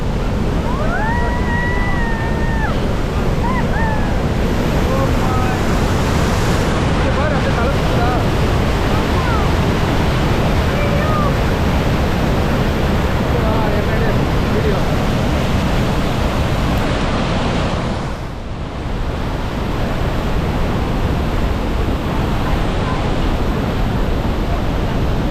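The Rhine Falls in Switzerland, Europe's largest waterfall, roar in a loud, constant, dense rush heard close up. Faint birdsong and voices are buried under the roar near the start.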